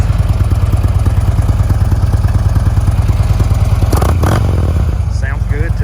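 A 2009 Harley-Davidson Electra Glide Ultra Classic with 55,700 miles idles loud and close, its rapid lumpy pulses thumping steadily, with a brief rev and some clatter near the end.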